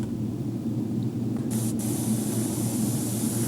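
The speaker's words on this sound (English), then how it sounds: "And a little spraying in the mouth." An airbrush sprays paint into the mouth of a largemouth bass taxidermy mount, giving a quiet, steady airy hiss over a low hum, with a brief brighter burst of spray partway through.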